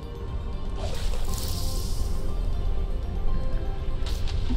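Water rushes and fills a space in the I Am Fish video game, a steady wet, bubbling wash with a few brief splashy bursts, heard alone without speech.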